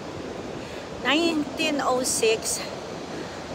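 Ocean surf rolling in at Cannon Beach near a shipwreck, a steady broad wash of waves with wind noise throughout, while someone talks briefly over it in the middle.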